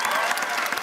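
A panel audience at PaleyFest LA 2022 claps for the Emily in Paris cast; a short burst of dense, steady applause from a crowd, fairly close, with no talk over it.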